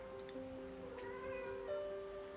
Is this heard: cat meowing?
yes